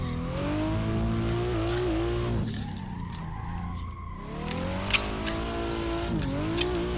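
A BMW drifts on the Bihoku Highlands track in the racing game Assetto Corsa, its engine revving high with sustained tire squeal that dips briefly as the throttle lifts, then surges back.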